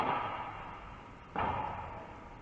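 A cricket ball thuds against the back wall during a Test match: one sharp impact partway through, heard over a constant broad crowd and broadcast hiss.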